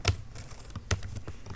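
Fast computer keyboard typing while writing Python code, a quick run of light clicky keystrokes with a couple of sharper key hits, close and alone.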